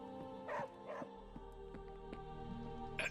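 Charlie, a dog in the video game Marvel's Midnight Suns, lets out a few soft yips and whimpering barks over a quiet game soundscape.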